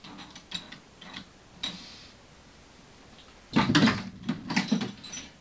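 A socket ratchet turns on stuck nuts on a CB500 motorcycle, giving faint scattered clicks at first and then a louder run of close ratcheting clicks near the end, with no talk.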